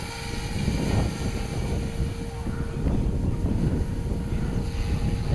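Protos RC helicopter hovering at higher rotor speed outdoors, a steady whirring buzz with tonal whine and wind rumble, moderately close, with no speech.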